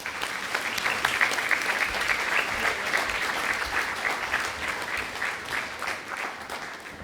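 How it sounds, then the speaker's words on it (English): A roomful of people at a spring senior breakfast applauding together, a dense steady clapping that holds for several seconds and then gradually thins and fades. "Please give everyone a round of applause."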